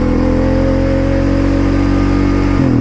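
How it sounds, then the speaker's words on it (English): Quad bike engine revving hard under throttle, a loud, steady, droning roar held at high revs for a few seconds before the pitch drops sharply near the end, close up and alone. "you can tell that it's ringing the engine out."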